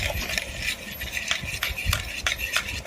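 A spoon stirs semolina and buttermilk batter for Gujarati dhokla, making close, rhythmic scraping strokes against the bowl at a quick, even pace.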